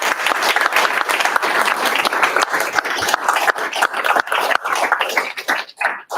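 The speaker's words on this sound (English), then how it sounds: "One more round of applause." A room of attendees at a security meetup gives a loud, dense round of applause that thins out into a few scattered claps near the end.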